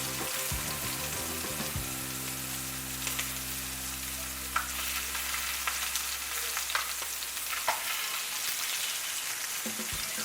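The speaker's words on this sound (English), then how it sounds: "Let's see if we stick it. Oh no, that's good. We don't want it to stick. That's when you know you got a good black iron skillet." Blackened Cajun catfish sears in a black iron skillet with a loud, steady sizzle that runs the whole time, broken by a few scraping clinks of a utensil near the start.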